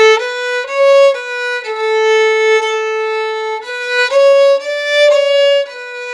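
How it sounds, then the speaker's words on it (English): Violin played with half the bow hair on the edge and the bow tilted, a short solo phrase of sustained notes with a softer, more delicate tone. "And I'll play with half the hair on the side, tilting bow."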